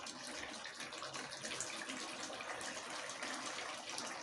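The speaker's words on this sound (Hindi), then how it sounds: "अब मैं इसमें पानी डाल रही हूँ जितना मुझे चाहिए।" Water poured from a vessel into a cooking pot of chicken and potato curry, a steady, soft splashing gush that runs evenly throughout without any voices.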